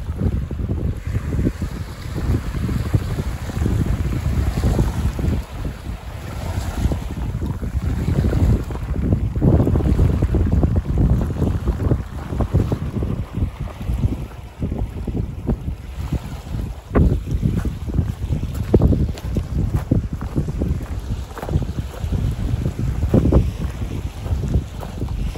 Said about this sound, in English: Waves right here. Come right up here to the water's edge.